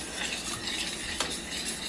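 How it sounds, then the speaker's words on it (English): A spoon stirs tuna casserole mixture blended with canned soup, a dense continuous scraping and squelching close by with one brief clink, no speech. "I'm gonna stir this around for just a minute to get this part blended"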